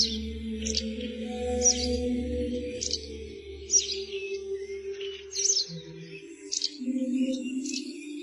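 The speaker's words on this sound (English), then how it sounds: "listening to all the songs of the birds" Small birds chirp and tweet in short, scattered calls over a low steady hum, moderately near and fairly soft.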